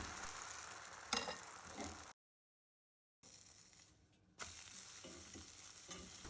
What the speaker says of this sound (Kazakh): Блинчик жасайтын ыдысымызды қыздырып, шемішке майды жағып жібереміз. Бір шөміш құйып, жан-жағына тигізіп саламыз.